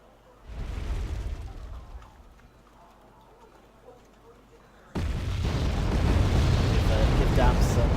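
Artillery barrage in the real-time strategy game Wargame Red Dragon, with low rumbling explosions swelling near the start and then a sustained loud roar of blasts, mixed with game sounds.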